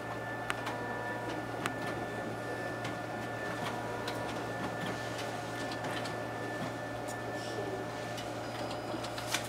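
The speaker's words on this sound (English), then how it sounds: "there we have our document feeder working" A Xerox WorkCentre 7425 copier's document feeder runs steadily, pulling two test copies through with a continuous mechanical hum and a few faint clicks and ticks along the way.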